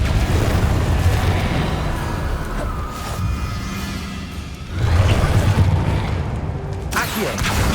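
A Repulsor spell cast in the Hogwarts Legacy video game surges as a booming burst over a steady bed of game noise partway through, followed by another sharp hit near the end.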